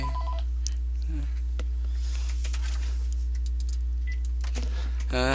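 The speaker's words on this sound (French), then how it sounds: "Désolé pour le téléphone." A telephone sounds short beeping tones near the start, then steady tones and clicks over a constant low electrical hum, fairly quiet against the background.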